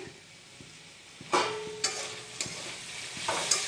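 Bitter gourd sizzles quietly in a hot pan, with a few sharp scrapes of a spatula tossing it at uneven intervals.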